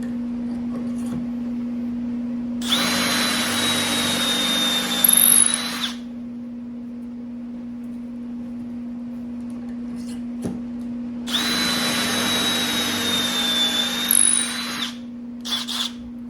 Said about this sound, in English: So drill these.